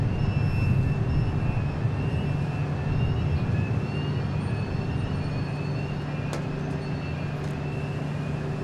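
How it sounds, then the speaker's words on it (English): A Cessna airplane flies by, a steady broadband engine drone that holds at an even, fairly loud level throughout with no clear rise or fade. "It is a Cessna"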